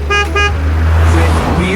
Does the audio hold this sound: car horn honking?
yes